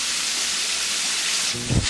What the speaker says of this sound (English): Frying up like it's supposed to. Still crackling, still popping.